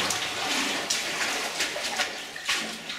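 Water flows and splashes through a flooded mine tunnel, a continuous rushing wash with a few sharper splashes, close by and fairly loud, with no voices.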